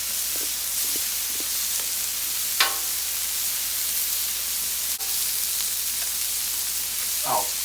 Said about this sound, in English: I love to get that little sear on these scallops right here.